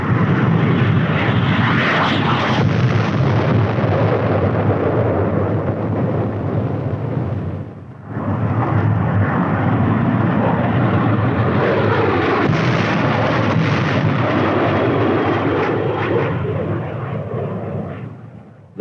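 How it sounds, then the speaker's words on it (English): Military aircraft dropping napalm on an enemy position, a loud sustained engine roar with a dense rumbling wash of blast noise, briefly cutting out midway before resuming and fading at the end. "The deadly napalm is dropped in a veritable blanket of destruction over the enemy's position"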